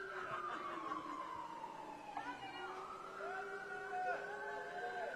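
Faint sirens wail and sweep up and down in the distance, several tones overlapping, with soft murmuring nearby, at a Hollywood Walk of Fame star ceremony for David Beckham.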